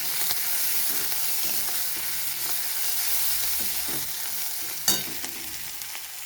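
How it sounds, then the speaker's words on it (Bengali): Bay leaf, ginger and cumin fry in oil with a continuous, even sizzle, soft crackling and one sharp clink of a utensil near the end. "আদা আর জিরে এগুলো একটু ভেজে নেব যাতে কাঁচা গন্ধটা চলে যায়"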